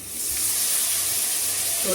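A handful of water sprinkled into a hot pan of frying plantain slices makes a loud, steady hiss and sizzle of steam, close up and sustained throughout.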